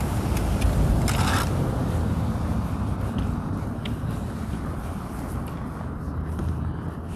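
Steady wind buffeting the microphone in snowy minus-21-degree weather in Calgary, Alberta, with a constant low rumble and broadband roar, occasional scrapes and rustles on top, no voices.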